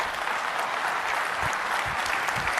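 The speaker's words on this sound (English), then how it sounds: "So give a round of applause to Peter." An audience at a talk on North America gives steady, sustained applause as a speaker walks onto the stage, a continuous even clatter of many hands with no talking.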